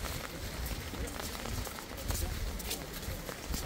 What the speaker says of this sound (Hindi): तेज़ हवाएँ भी चल रही है और बारिश भी हो रही है